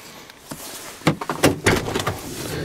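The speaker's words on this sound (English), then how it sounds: "Is this one of those quirky side doors? How do you open this thing?" The rear-hinged side door of a Toyota FJ Cruiser in a salvage yard unlatches and swings open, giving a few close clicks and clunks followed by a soft rattle and thud.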